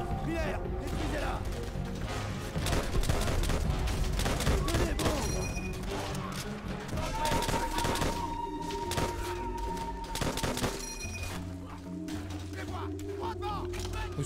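Sustained machine gun fire in Call of Duty: World at War amid a chaotic battle, dense crackling volleys, crashes and thuds layered over shouting voices and a wavering tone throughout.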